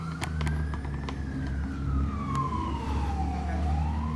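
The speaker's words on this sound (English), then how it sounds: "That's what the sirens are about right now." An emergency siren responding to a brush fire wails in slow rising and falling sweeps over a low engine rumble, fairly close and continuous.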